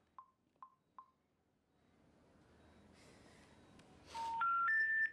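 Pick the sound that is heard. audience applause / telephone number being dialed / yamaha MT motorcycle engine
telephone number being dialed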